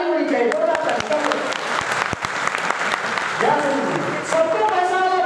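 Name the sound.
loud applause from audience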